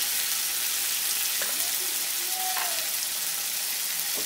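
Coriander powder, tomato puree and turmeric frying in oil for a raw papaya kofta curry, a steady hissing sizzle with a few faint stirring scrapes.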